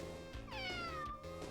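A house cat gives a clear, close meow with a falling pitch, set over quiet background music.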